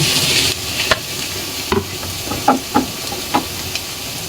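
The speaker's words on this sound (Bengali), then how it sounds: "এখন আমি টমেটোগুলো এর ভিতরে ঢেলে দিব।" Tomatoes land in a pan of frying egg, onion and chili: a loud initial sizzle burst, then a series of spatula scrapes and clacks over a quieter hiss.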